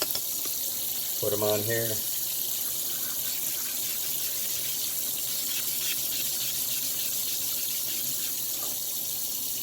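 Tap water runs steadily into a sink while magic erasers are wetted for cleaning sharpening stones, a continuous close hiss with brief clatter and a short spoken remark near the start.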